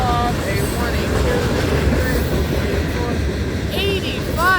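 A BNSF freight train of 85 mixed manifest cars rolls past close by in a loud, steady rumble with clattering wheels and intermittent high-pitched wheel squeals; someone talks over it.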